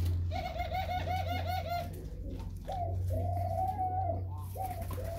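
Laughing doves at a breeding aviary coo in soft, repeated bubbling phrases, a couple of overlapping birds calling close by over a low background hum.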